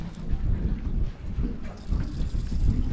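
Strong wind buffets a small boat while squid fishing on Cockburn Sound, a steady low roar and gusting rumble with no talk.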